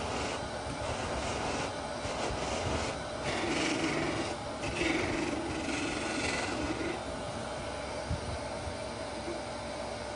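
Wax being rubbed onto a turned wooden piece, likely spinning on a lathe, giving a continuous, steady rasping friction with a low machine rumble underneath, fairly close and with no talking.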